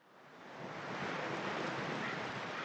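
Sea waves wash in continuously beside the English Channel, a broad, steady roar of surf that swells during the first second and then holds loud and even, with wind hiss mixed through it and no voices.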